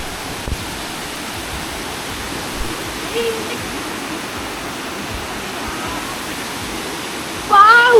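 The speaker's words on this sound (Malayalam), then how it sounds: "What a beautiful waterfall." A waterfall at Nainital rushes in a steady, loud, close roar of broadband water noise that holds through the whole stretch, with a brief voice near the end.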